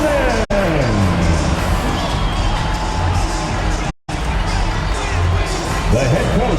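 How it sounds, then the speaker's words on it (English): A dense arena crowd in the NBA 2K24 basketball video game cheers and whoops loudly and continuously at a home Orlando Magic game, with an announcer's voice over the roar. "Another round of applause for your Orlando Magic."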